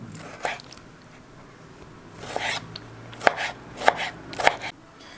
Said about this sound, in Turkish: Şimdi kabuklarını soyduğumuz domatesimizi bu şekilde küp küp doğrayalım.